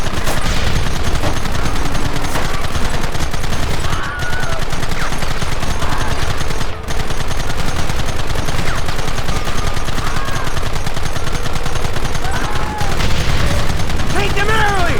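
Heavy gunfire in Red Dead Redemption, dense bursts of rifle and rapid-fire shots crackling continuously for the whole stretch, loud and close, with occasional booms and shouting voices mixed in.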